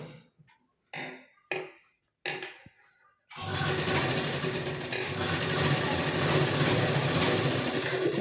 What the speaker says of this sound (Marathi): गळ्याला आपली टिप मारून झाली आहे.